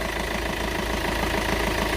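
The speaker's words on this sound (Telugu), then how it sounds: "ఇంజిన్ సౌండ్ అయితే చూసారు కదా" A 2014 Hyundai Elantra diesel engine idling close up: a steady, low, rumbling drone with a fast rhythmic clatter running through it, constant and alone.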